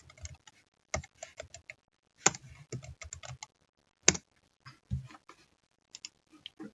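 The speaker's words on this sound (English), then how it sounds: "you could just type it in the terminal" Someone types on a computer keyboard at a Linux terminal, producing crisp, close clicks in uneven bursts with short pauses between runs of keystrokes.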